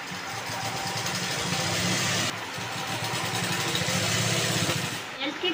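A sewing machine stitches a skirt lining with a fast, steady mechanical whir and rhythmic needle chatter, pausing briefly midway and stopping near the end.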